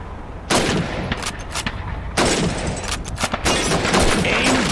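Rifle shots crack at bottles and plates on a Call of Duty 2 Red Army training range. Three loud, sharp reports come a second or two apart, each with a ringing tail under faint background noise.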